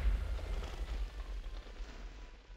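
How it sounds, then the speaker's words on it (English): A giant summoned ghost from the Kamikaze Wrap technique explodes in a modded Minecraft game, giving a deep, rumbling blast that rolls on and slowly fades. "This summons a giant ghost who explodes when you release the Z as well"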